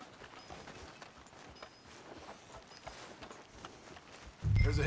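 Horse hooves clip-clopping at a walk in the video game Red Dead Redemption 2, a soft, steady rhythmic patter of footfalls with a louder burst at the very end.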